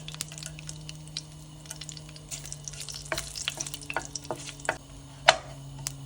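Bay leaves and cardamom pods sizzle softly in hot oil in a pan for a fish curry, a faint, continuous frying crackle with scattered small pops and a stir or clink near the end.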